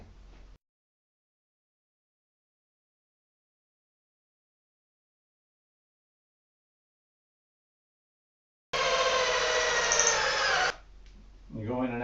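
A power drill bores into wood during construction of a kitchen bar stool, whining in one loud sustained burst of about two seconds after a long silence, then a brief rustle.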